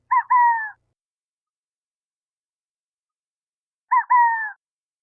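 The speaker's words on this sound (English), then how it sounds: "males make a cute two-note cooing that is described as quail-like" Burrowing owl two-note cooing call, repeated twice about four seconds apart, each a short paired hoot, clear and isolated against silence.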